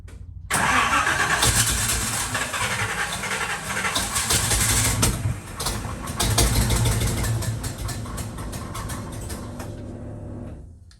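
A Chevy C20 truck engine cranks and catches, revving loudly and roughly for several seconds before settling into a steady idle, with short bursts of throttle along the way.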